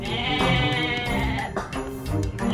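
Goats bleating in the strategy game Age of Mythology, a dense, continuous layer of overlapping bleats set against busy game sound and music, loud and steady throughout with a few brief dips.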